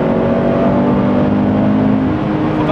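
A Toyota GT86 engine revs steadily under load while driving, with a loud, sustained mid-range drone and a smooth tone filling the cabin throughout.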